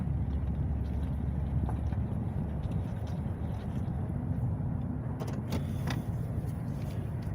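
A car rolls slowly through the Atlanta Farmers Market, its engine and road noise a low, steady rumble with faint clicks and distant sounds from the market.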